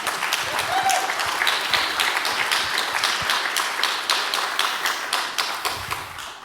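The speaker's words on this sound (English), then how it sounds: "So again, a big applause to them." A conference audience at FrOSCon applauds, dense clapping from many hands sustained evenly throughout, with occasional louder individual claps near the front.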